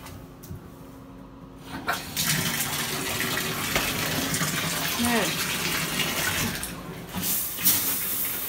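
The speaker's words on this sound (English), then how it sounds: "I figured I'm gonna go take a shower." Water runs steadily from a shower in a bathroom, a continuous broadband hiss and splash with brief louder gushes, close by and moderately loud, while a person talks at times over it.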